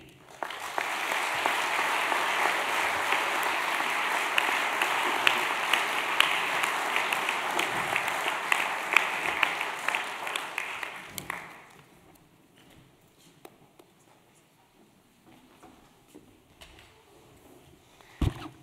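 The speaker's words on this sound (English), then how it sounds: "Please join me in a round of applause for all of our graduates." Sustained applause for graduates fills a hall at an investiture ceremony, a dense, loud roll of many hands lasting about eleven seconds before fading to scattered claps and quiet room noise.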